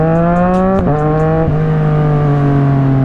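A Yamaha R6 sport bike engine holds a loud, steady, high-pitched note close by, dipping briefly as it shifts pitch before settling back to a sustained drone.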